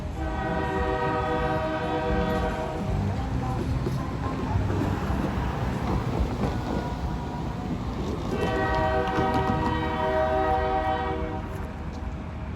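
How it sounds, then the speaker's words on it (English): Union Pacific short gondola freight train passing close by, a continuous rumble of rolling cars with two long, loud horn blasts, one at the start and another near the end. "Okay, this is the second time the same train passes by."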